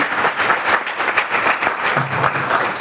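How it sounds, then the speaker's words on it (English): A crowd applauds with dense, steady clapping that holds at an even level throughout the short stretch. "Big round of applause for Tracy and the staff here at the ICC."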